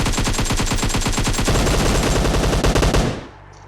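Loud automatic gunfire in a PUBG Mobile firefight: rapid, evenly spaced bursts rattle for about three seconds and then cut off abruptly, with no voices over them.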